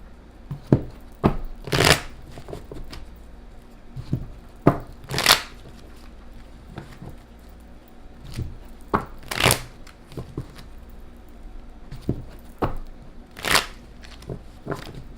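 Tarot cards being shuffled by hand, a series of quick riffling and slapping bursts at irregular intervals, close and crisp, with soft handling noise in between.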